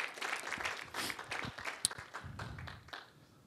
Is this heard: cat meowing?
no